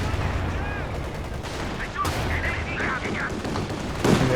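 Jagdtiger tank cannon fire striking an ISU in a Company of Heroes 2 match, a dense bed of battle noise with heavy gunfire and booms layered over low rumbling.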